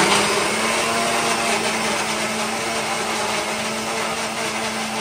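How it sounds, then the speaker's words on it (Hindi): An electric mixer grinder whirs continuously while grinding tomatoes, a steady close motor drone with a constant hum and broad whining hiss throughout. "अब टमाटर पीसने का टाइम आ चुका है"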